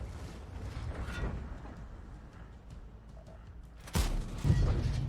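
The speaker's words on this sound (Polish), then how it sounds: "Spróbuję oddać jeszcze pożegnany strzał." A parting cannon shot fired in a naval combat video game: a sudden loud blast near the end rising out of steady low mechanical rumble, followed by a second deeper thud moments later.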